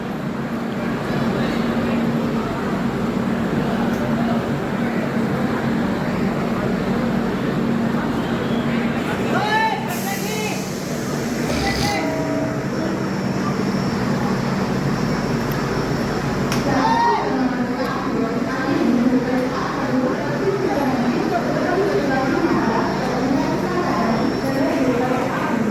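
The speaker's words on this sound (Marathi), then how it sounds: "ट्रेन ऑन टाईम एकदम परफेक्ट टायमवर पोचलेला आहे" A Panjab Mail passenger train on its Mumbai to Mathura run pulls into Kalyan station, giving a steady, close rumble and hum with busy platform noise and people talking throughout.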